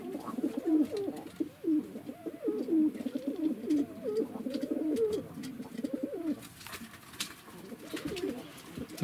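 Pigeons coo repeatedly in low, throaty, warbling phrases, close by, with faint background noise.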